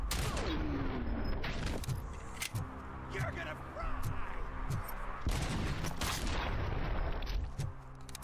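A grenade launcher fires amid combat in the video game Dune: Awakening, with several sharp booming shots and explosions spaced irregularly over a noisy, dense battle bed, while a voice talks over it.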